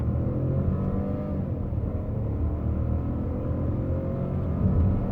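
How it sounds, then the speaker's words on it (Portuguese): A Volkswagen Polo 200 TSI automatic revs steadily as it accelerates, a loud, continuous droning hum heard from close by with no voices. "Olha como ele acelera aqui o Polo."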